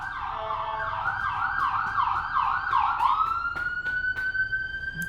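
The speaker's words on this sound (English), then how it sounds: "Here comes another siren." A passing emergency vehicle siren sweeps through fast wailing cycles, loud and fairly near, then settles into a single held tone as it moves on.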